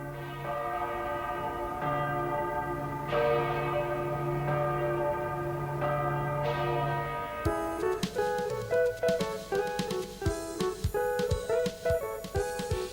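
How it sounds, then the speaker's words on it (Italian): Church bells of Sant'Antonio ring at a distance during a saint's feast day, slow sustained tolls at first, then several bells clanging together in a rapid, overlapping peal. "le campane de Sant'Anton e suonava tanto forte"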